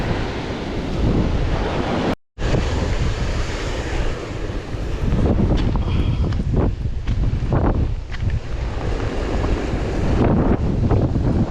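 Ocean waves washing onto a shore, a loud continuous roar of surf with heavy wind buffeting the microphone and a brief dropout early on.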